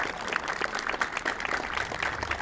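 Outdoor crowd applause at a May 8 commemoration ceremony in Saint-André-les-Alpes, honoring a centenarian; moderate, even clapping from a gathered audience, fairly soft and continuous.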